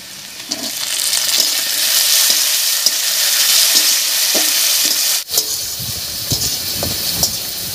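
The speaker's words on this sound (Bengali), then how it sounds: "টমেটো দিয়ে একটু নাড়িয়ে নিয়েছি, টমেটোটা বেশ ভাজা ভাজা হয়ে গেছে" Chopped tomato fries loudly in a pan with a dense, steady sizzle, marked by light rhythmic stirring scrapes; after a brief drop the frying returns with more frequent clattering stirs.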